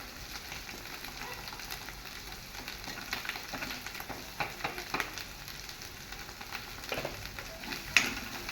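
Paneer masala being mixed in a hot pan, a soft continuous sizzle with light scraping stirs and occasional clinks of the spoon, close and fairly quiet with no talk.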